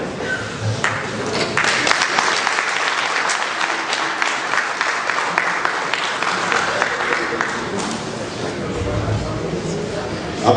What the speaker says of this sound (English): as the minister catches his breath, the best tonic you can give him is another round of applause